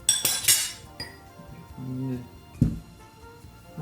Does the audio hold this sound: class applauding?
no